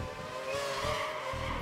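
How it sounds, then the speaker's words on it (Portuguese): A race car in F1 2012 at the Indian Grand Prix spins out on a kerb, with a steady engine drone and a short burst of tire scrub, heard alone without voices. "O carro rodou, velho, sozinho ali naquela zebra"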